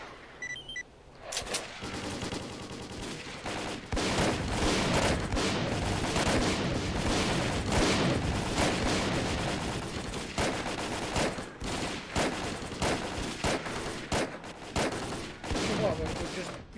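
Gunfire in S.T.A.L.K.E.R. Call of Pripyat, dense bursts of shots rattling almost continuously for most of the stretch, loud and close, with a voice occasionally heard beneath the din.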